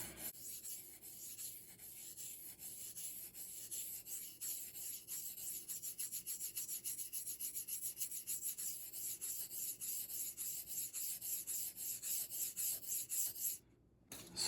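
Repeated rasping swipes of a blade drawn across a King KW65 waterstone, steady stroke after stroke in a regular rhythm, close and moderately quiet, with no talking, ending in a short pause.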